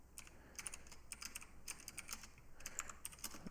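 Rapid clicking of typing on a computer keyboard during a live coding session, close and steady in irregular bursts of keystrokes with no voices.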